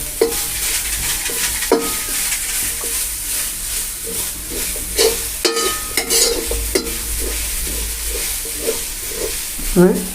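Coconut, shallots, cumin and ghee frying in a hot pan, a steady loud sizzle and hiss broken by repeated scraping stirs of a spoon against the pan.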